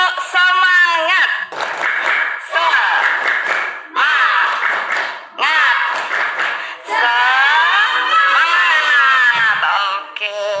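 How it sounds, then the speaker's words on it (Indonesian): Schoolchildren in a classroom doing a rhythmic tepuk semangat clapping routine, loud bursts of claps in short patterned phrases mixed with shouted chanting voices, pausing briefly between rounds. "Mari kita tepuk semangat bersama terlebih dahulu."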